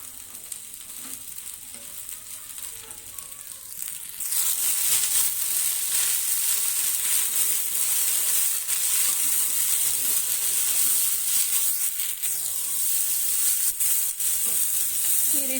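Radish pods being fried in oil in a pan: a quieter stretch of soft stirring and scraping, then a loud, steady sizzle that swells and carries on close by, with no speech.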